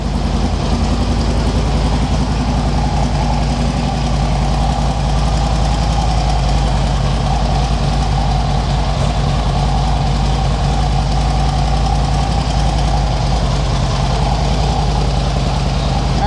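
A 1973 Mercedes R107 450SL engine on fast idle, a steady, loud, even rumble with a slight rhythmic knock running unchanged throughout.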